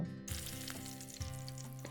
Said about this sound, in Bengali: তারপরে চিকেনগুলোকে একটু ভেজে নেব